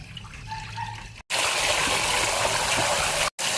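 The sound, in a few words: washing glutinous rice in water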